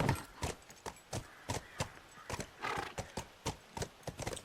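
Horse hooves clip-clop in a steady, close rhythm as a horse moves through a scene in The Last of Us video game, with brief breathy snorts mixed in and no talking.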